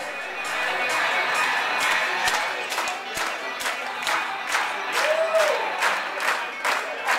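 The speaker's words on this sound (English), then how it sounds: "Ladies and gentlemen, please start clapping your hands." Wedding reception guests clap for the bridal party's entrance, a dense sustained crowd applause with scattered cheers and faint music underneath, steady and fairly loud throughout.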